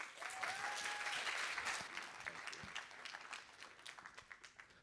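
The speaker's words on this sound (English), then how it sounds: "can we give a round of applause to Jupe, please?" A financial services summit audience applauds in a large hall, a brief burst of clapping that is fairly faint and gradually thins out over about five seconds.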